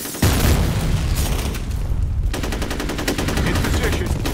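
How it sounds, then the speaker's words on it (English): Grenade blast and rapid gunfire in the F.E.A.R. video game, a loud burst followed by sustained, evenly pulsing automatic fire close up, with a dense roar throughout and no pause. "Grenade out."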